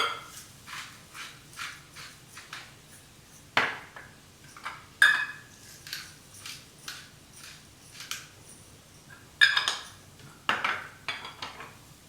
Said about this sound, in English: Give that a nice stir, get that butter to melt.